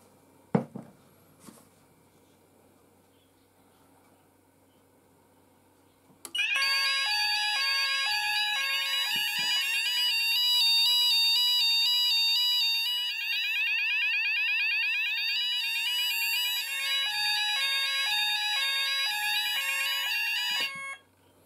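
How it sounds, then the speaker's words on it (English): A C-Tec fire alarm sounder on an Apollo Alarmsense demo board sounds a loud, fast-sweeping electronic tone that starts abruptly after a few seconds of quiet with faint clicks, then runs continuously at close range until cutting off. "you could hear the new C-Tec sound, like it's on, but it's not a C-Tec evacuation."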